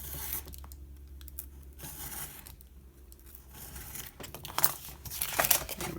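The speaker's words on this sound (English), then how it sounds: "So I'm going to cut this corner off." A blade cuts the corner off a cardboard sheet for a DIY four-drawer storage unit, making close, dry, rasping slicing strokes with brief pauses and a scratchy burst near the end.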